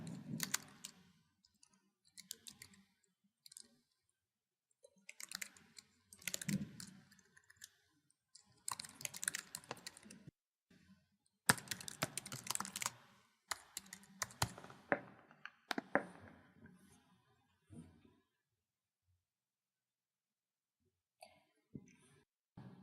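An address is typed on a computer keyboard in irregular bursts of close, light clicking keystrokes, with brief pauses and a long quiet stretch near the end.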